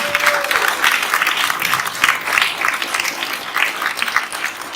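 Warm, steady applause from an evening audience at a women entrepreneurs' panel event, many hands clapping together with a faint whistle near the start.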